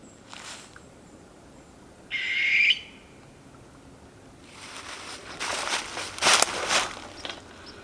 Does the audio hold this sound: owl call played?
yes